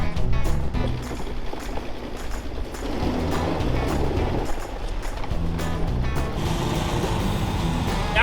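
A heavily loaded truck carrying 15 bales of hay creeps through mud in first gear, high range, on the way up a hill. A loud, steady low engine drone and churning run through the whole stretch with no talk.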